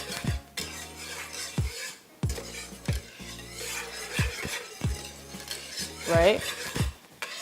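Caramel sauce with cream being stirred in a pan, the utensil scraping and clinking against the metal in repeated strokes with a soft bubbling simmer, close and fairly quiet, a brief spoken word near the end.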